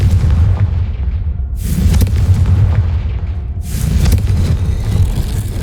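A fire-blast spell exploding in the fantasy video game Hogwarts Legacy, two heavy booming blasts a couple of seconds apart, each with a rushing burst and rumbling tail, loud and close with no speech.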